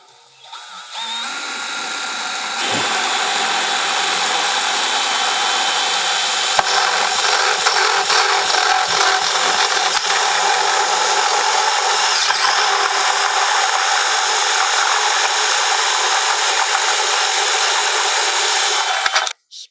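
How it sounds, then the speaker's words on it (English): A step drill bit bores a hole during an electronic ignition modification on a 22-inch Adventure Ready grill, a loud close power-drill whine that starts after a brief pause and runs almost unbroken for around seventeen seconds before cutting off. "So I got a step drill, right? Or step bit."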